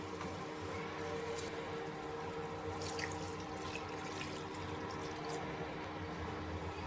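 Water is poured into a pan of rohu fish curry cooked with ground black cumin, a steady, quiet trickle and splash running continuously at close range with no talk.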